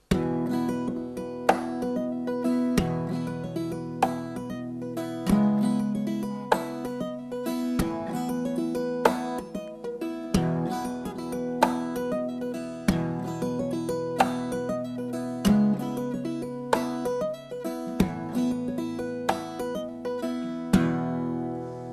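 Plucked, ringing lap-style guitar notes played over a steady kick and snare beat, with a looping pattern that repeats every few seconds, clear and close.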